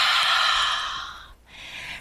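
A long, breathy exhale through a constricted throat in yoga practice, imitating the hiss of ocean waves, then a short pause before a second breath begins, close and soft.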